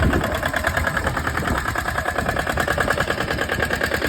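A tractor engine idles steadily up close, a rapid, even chugging rhythm with a rattly, knocking texture throughout.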